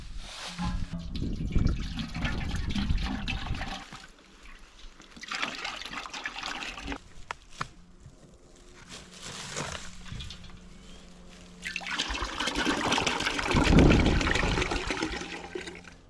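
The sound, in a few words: birch sap poured from jugs into a big container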